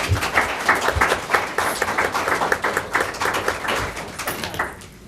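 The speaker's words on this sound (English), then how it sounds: "So one more round of applause for our board." Audience members at a Ponca City school board meeting clap for the board, a loud, sparse round of individual claps with a clear uneven rhythm that gradually fades out over about five seconds.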